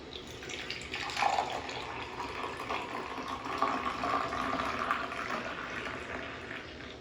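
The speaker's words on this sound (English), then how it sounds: "I'm also going to pour it into this fellow double-walled glass" Coffee poured steadily into a double-walled glass, a continuous close splashing and trickling liquid stream lasting several seconds with a slight rise in pitch as the glass fills, heard alone without talk.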